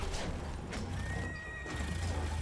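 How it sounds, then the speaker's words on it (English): A horse in a video game neighs and whinnies, its call standing out briefly over steady, busy battle noise with a hint of hooves clip-clopping beneath. "There's also a horse coming to your right side."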